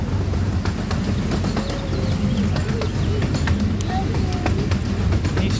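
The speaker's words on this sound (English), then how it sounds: "We're on the train." The Billy Jones Wildcat Railroad, a miniature train at Vasona park, rumbles along with a steady low chug and clatter from onboard, with birds chirping and people talking faintly nearby.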